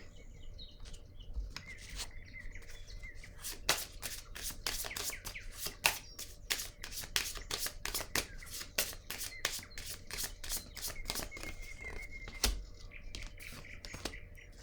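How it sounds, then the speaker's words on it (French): Playing cards being shuffled and drawn at a table, a fast, close run of crisp riffling clicks filling most of the clip, fairly quiet with a faint background chirp. "je vais piger une autre carte sur le temps"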